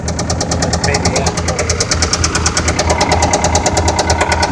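An idling car engine with a severe rod knock: a steady, rapid metallic knocking over a rough, loud engine drone, continuous throughout and close by.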